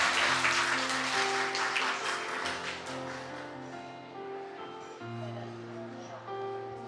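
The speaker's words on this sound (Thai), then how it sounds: "ขอเสียงปรบมือดังๆ ให้กับว่าที่เจ้าบ่าวสุดหล่อของเราด้านบนเวทีด้วยค่ะ" Guests at a Thai wedding ceremony at a hotel applaud the groom on stage, a soft spread of clapping that fades over several seconds beneath sustained background music.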